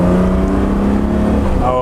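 A Mercedes-Benz 280SL Pagoda straight-six pulls at half throttle, a loud steady droning engine tone heard close from inside the car, rising slightly in pitch near the end.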